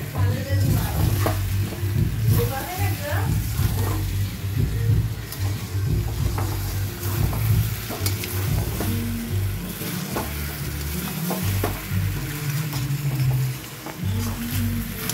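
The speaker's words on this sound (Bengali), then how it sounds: "এই দিকে তো দেখছো খাসির মাংসর জন্য পেঁয়াজ ভাজা হচ্ছে, পেঁয়াজ ভাজছে" Onions fry for a mutton curry in a pan, with steady sizzling and occasional scraping of the stirring spoon, close and continuous, over low background noise.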